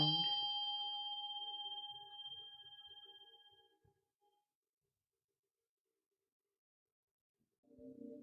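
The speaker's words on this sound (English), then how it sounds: "when the bell is rung, it affects all of our 7 chakras" A ringing tone sounds from a bell forged from seven blended metals. Its bright, sustained shimmer fades gradually over about four seconds into silence, and a brief low rustle follows near the end.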